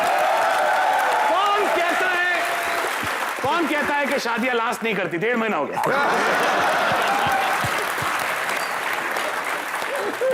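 Studio audience on a comedy show bursts into loud, sustained applause and clapping, with someone talking over it and laughter-like crowd noise rising and falling.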